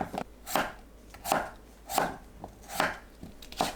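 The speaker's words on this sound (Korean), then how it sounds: "감자는 1cm 두께로 썰어주세요." A knife slices potatoes into 1 cm thick pieces on a cutting board for a pork-belly and zucchini stew, giving five evenly spaced, crisp, close chops with faint taps in between and no voices.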